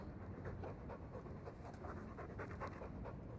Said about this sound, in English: He's a sweet dog, Hawke.